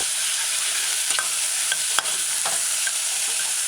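A spoon stirs a mushroom and chickpea stew in a pot over a constant loud sizzle, with a few sharp scraping knocks against the pot.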